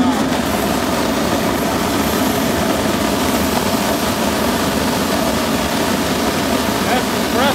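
A blower-powered cast iron melting furnace burner fitted with a nozzle gives off a loud, constant roaring rush of combustion and air that holds steady from start to finish.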